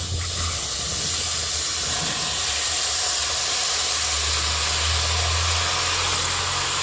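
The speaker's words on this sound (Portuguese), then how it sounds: "nós vamos despejar o nosso abacaxi cortadinho aqui" Chopped pineapple hitting caramelized sugar in a pan, a loud, continuous steaming hiss and sizzle that fills the whole stretch, close and unbroken, with no talking.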